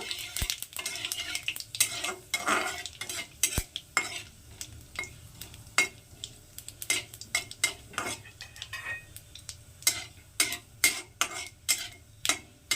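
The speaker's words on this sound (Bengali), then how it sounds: "তো এটার মধ্যে দিয়ে দিচ্ছি কিছুটা পাঁচফোড়ন পাঁচফোড়নটা একটু" Panch phoron spices fry in a pan for amra pickle while a metal spoon stirs them, giving a faint sizzle under a long run of rhythmic clinks and scrapes that grow more regular toward the end.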